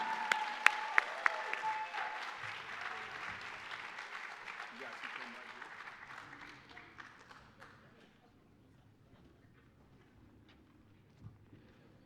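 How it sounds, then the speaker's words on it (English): An audience at a hall of fame awards banquet gives a round of applause that starts moderately loud, thins out to scattered claps and fades away, with voices faint in the room. "Let's give all the recipients one more round of applause"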